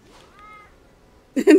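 A cat meows in the video game New Pokemon Snap, with a faint thin mew early on followed by two loud, close meows at the end.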